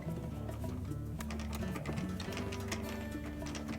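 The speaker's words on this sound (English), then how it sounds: "We'll reinstall all the 1/4 inch screws first." A driver runs quarter-inch screws back into the metal cover of a Whirlpool dryer during a blower wheel repair, a steady whirring with quick ticking clicks, close and continuous.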